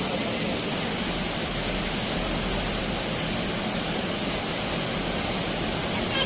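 Floodwater rushing along a swollen river after heavy rain, a loud, steady, unbroken roar with no pauses, spreading around a temple compound.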